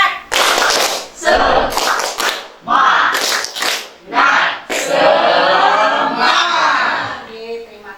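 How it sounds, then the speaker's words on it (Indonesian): A classroom of students performing the tepuk semangat rhythmic clapping cheer, loud bursts of patterned claps mixed with shouted chanting voices, close and energetic. "Tepuk semangat."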